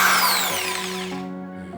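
Mitsushi electric car polisher spinning at high speed on 220 volts, a loud close whine whose pitch slides down as it winds lower.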